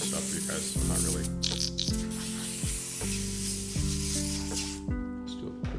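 An airbrush sprays paint onto paper towels in short hissing bursts. The bursts sit under a steady, low-pitched compressor hum, and there is some faint handling noise between them.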